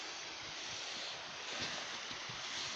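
A river runs at night after snowfall, its steady, faint rushing wash continuous and soft, with gentle low wind-like rumble and no voices.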